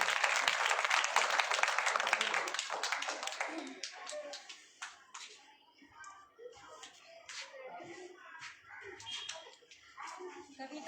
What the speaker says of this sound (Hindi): एक जोरदार तालियां इन बच्चों के लिए